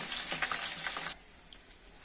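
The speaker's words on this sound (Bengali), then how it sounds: "তেল গরম হয়েছে, ঢেঁড়সগুলো ছেড়ে দিচ্ছি" Okra fries in hot oil in a kadai, a loud close sizzle with crackling bursts that drops sharply to a quieter hiss after about a second, with no voices.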